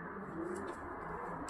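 Young racing pigeons cooing softly at close range while being packed for shipping, a low faint coo over steady background noise.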